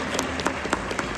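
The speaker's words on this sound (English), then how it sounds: "can we get a round of applause for Ruby Hughes," Brief applause for rider Ruby Hughes at the London International Horse Show arena, a smeared crowd clapping with a few sharper individual claps standing out, moderately loud and without talk.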